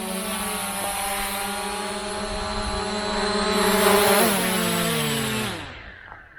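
Small JJRC X22 quadcopter drone propellers whine loudly and steadily, then wind down in falling pitch as the motors cut out and the buzz fades to silence.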